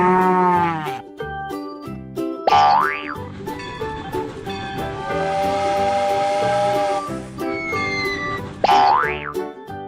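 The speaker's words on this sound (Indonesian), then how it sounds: "Kalian betul, itu adalah sapi." Cartoonish cow moos ring out in a children's animal-learning video game, mixed with bouncy boing effects, playful music and a whistle-like toot, loud and upfront.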